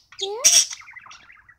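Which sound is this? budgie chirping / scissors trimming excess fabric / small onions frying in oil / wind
budgie chirping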